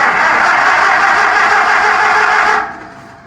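Farmall tractor engine running steadily under throttle, a loud sustained roar that holds for about two and a half seconds before dropping off abruptly to a quieter idle.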